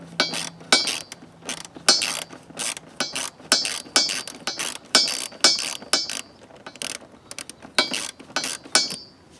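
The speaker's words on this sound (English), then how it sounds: "This is just to loosen the clamp." A 7mm ratchet loosens a clamp on a Volvo S60 T5 during condenser removal, clicking in quick repeated bursts of sharp metallic ticks, close and distinct over a quiet background.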